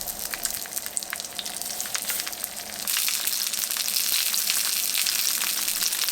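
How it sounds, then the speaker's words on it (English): Starch-coated frozen mackerel pieces frying in oil in a pan, a dense close sizzle that steps up sharply partway through and then holds loud and steady. "Pan fry in oil."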